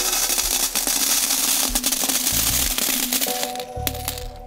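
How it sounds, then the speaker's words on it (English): A pile of 729 pennies dropping, a dense metallic clatter and jingle of coins spilling and settling over several seconds, close and fairly loud, with no talk. "That was the sound of 729 pennies"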